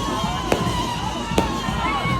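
Fireworks go off at a church festival for Saint Michael the Archangel, two sharp bursts cracking over steady crowd noise and people talking in the background.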